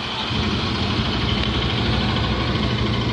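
A Bajaj Pulsar 200NS motorcycle engine runs steadily at close range, a continuous mid-pitched rumble with slight knocking vibration near a beach on the way to a riders' event.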